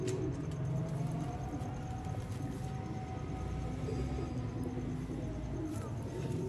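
Sialkoti pigeons coo in a loft kept by a pigeon fancier, a soft steady murmur over constant background noise with no talk.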